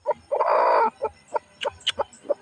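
A hen clucking after laying eggs, with a long loud squawk early on followed by a string of short, sharp clucks at a steady rhythm, close by.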